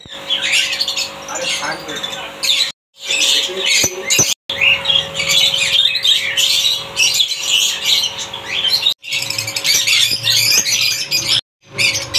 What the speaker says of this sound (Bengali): পাখিগুলো এত সুন্দর এত কালারফুল